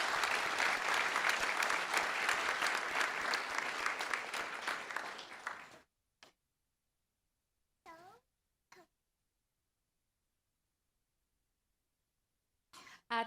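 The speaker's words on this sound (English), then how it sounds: "Let's give them a round of applause." Applause from the audience at a board meeting fills the room with dense, steady clapping for about six seconds, then cuts off abruptly; a few brief faint sounds follow in near silence.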